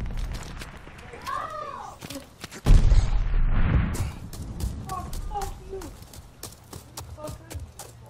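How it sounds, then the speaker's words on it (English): A stun grenade goes off in Call of Duty Vanguard, a single loud burst around 2.7 seconds amid game gunfire, footsteps and scattered combat noise. "Throwing stun grenade!"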